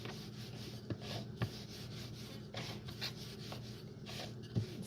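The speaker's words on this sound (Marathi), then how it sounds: "हे बघा, आता ही लाटून घेते." Bhakri dough rolled out by hand in a home kitchen gives soft, faint rubbing and pressing sounds, with a few light taps against a low background hum.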